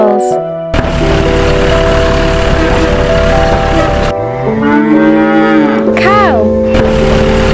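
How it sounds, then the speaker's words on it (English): A cow gives a single clear, loud moo with a rising then falling pitch near the end, set over steady musical tones and a busy background. "Cow."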